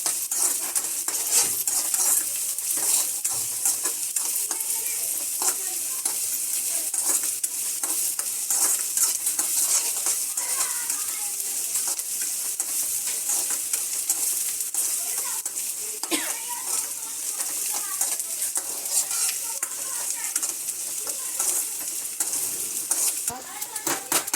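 Chopped onion fries in a pan for cashew curry, a steady bright sizzle with occasional stirring and utensil scrapes throughout, and faint talk now and then.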